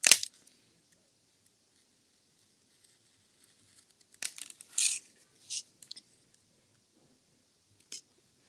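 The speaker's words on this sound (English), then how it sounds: "So again, I'm just going to cut it with that Xacto." An X-Acto knife slices through paper in a few short, faint scratchy strokes: one at the start, a cluster midway, and a last quick cut near the end, with quiet gaps between.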